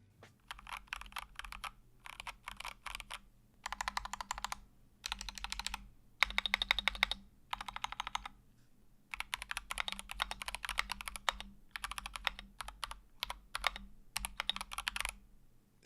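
Bursts of clacky typing on an unmodified entry-level plastic mechanical keyboard, rapid and close, in several separate runs with brief pauses between them, over a low steady hum.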